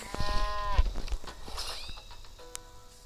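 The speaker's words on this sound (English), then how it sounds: "I think I'm just gonna summon a cow." A summoned cow moos in the video game Cards and Castles 2, a cartoonish bovine call with stretched tonal moos among game sound effects, close and clear, with a person talking faintly.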